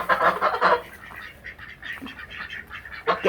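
Waterfowl honk and quack in short, loud bursts nearby, a cluster of harsh calls at the start, scattered squawks in the middle and another burst at the end, with no talking.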